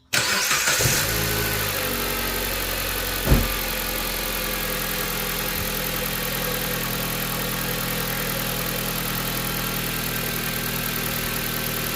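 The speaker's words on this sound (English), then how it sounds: "let's go start the engine" A 2008 Dodge Caliber 2.0L engine, faulty with stalling and misfires, cranks and catches, then settles into a steady idle, with a brief sharp click a few seconds later.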